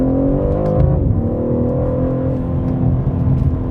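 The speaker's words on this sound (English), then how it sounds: "the bass that comes from the exhaust noise in Sport Plus mode is worth the price of admission" A BMW M3 Competition in Sport Plus mode sends out a deep, loud, steady bass exhaust drone with a slight rise in revs, close and continuous, with no talking.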